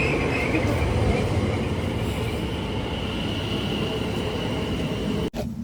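A train runs at a UK railway station, a steady loud rumble with wheel squeal and a high whine, continuous and close, with faint voices in the background.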